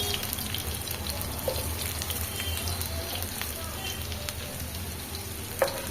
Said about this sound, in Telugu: తగినంత అయితే నూనె అయితే వేసుకోవాలి అదో నూనె అయితే వేడయింది ఇప్పుడైతే ఒక ఉల్లిగడ్డ అయితే కట్ చేసుకొని వేసుకుంటున్నాను